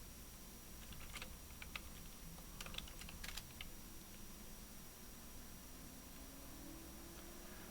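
Quiet scattered keystrokes on a computer keyboard, a few light clicks in small bursts, faint against steady background hiss while text is deleted during coding.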